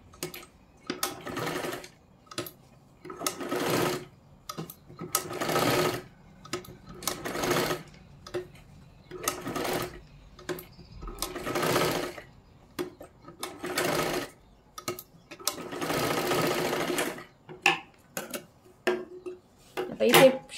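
Sewing machine stitching a boat neck katori blouse, running in repeated short bursts of rapid mechanical whirring separated by brief pauses, close and fairly loud, with faint clinks and a little speech between runs.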